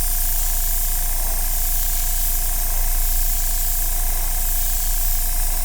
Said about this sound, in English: Rattle can's always faster if you can, but I know y'all guys want to see some airbrushing.